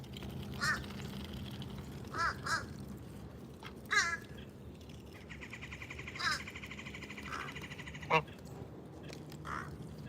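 A crow caws in a few short, harsh bursts spread over several seconds, mixed with other bird calls and a steady low background hum, with brief voices present.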